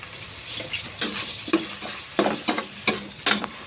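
Garlic and mushrooms sautéing in margarine sizzle softly while a utensil stirs and scrapes the pan in several distinct, irregular strokes, heard up close without voices.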